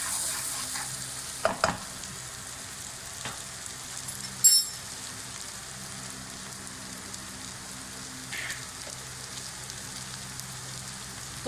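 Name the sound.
carrots frying in a pan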